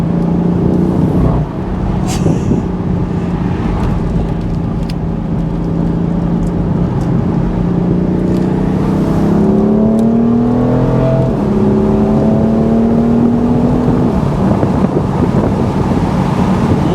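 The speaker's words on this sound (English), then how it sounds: "you let off the throttle, you hear the exhaust kind of like let off a little fart, and it sounds great." A BMW M4 Convertible F83 engine and exhaust drone and rise through the revs as the car accelerates with the roof off, steady and loud over heavy wind noise, pitch climbing through gear changes.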